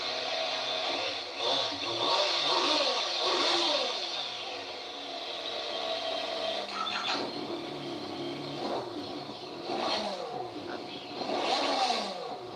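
A motorcycle with a stock exhaust revs several times in bursts, rising and falling in pitch, loud and close, with short idle gaps between the revs.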